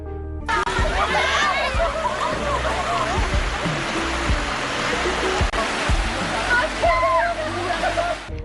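Buruskala waterfall in Deniaya, with shallow natural pools at its base, rushes steadily under lively chatter and laughter from nearby people, the water's roar constant throughout.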